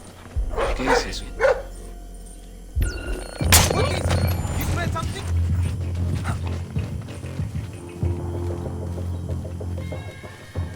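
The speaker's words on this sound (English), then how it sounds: "Now, it's bad when there's dogs because dogs can be a real nuisance." A dog barks in bursts during a stealth mission in Splinter Cell Blacklist, mixed with clucking fowl and game ambience. Voices speak over and between the barks, which are loud and close.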